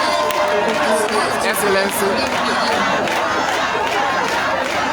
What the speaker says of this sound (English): you can hear the cheering in the background